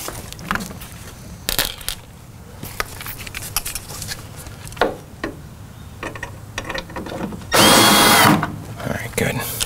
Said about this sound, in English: All right, let me grab my drill.